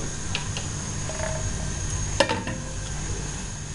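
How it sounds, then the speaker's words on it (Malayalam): A spoon stirs salted ash gourd buttermilk curry, kumbalanga moru curry made without coconut, in a pot: quiet scraping over a low kitchen hiss, broken by one sharp metallic clink. "ഇതൊന്ന് ഇളക്കിയിട്ട് നമുക്കിതൊന്ന് മൂടി വെക്കാം"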